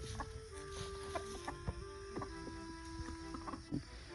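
Chickens clucking nearby in a garden in a scattered, irregular rhythm, several short calls overlapping against a low background murmur.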